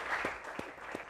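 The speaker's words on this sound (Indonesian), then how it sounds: "Oke, tepuk tangan buat Sidik." Audience applause for a long-haired contestant named Sidik on an Indonesian TV show, a brief steady patter of clapping with a few louder claps standing out, no talk over it.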